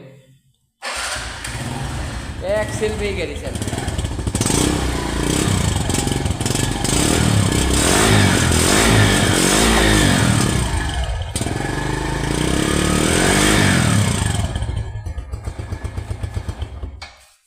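A TVS 100cc motorcycle engine starts and settles into a loud, close idle with some revving and rattling; someone speaks briefly at the start.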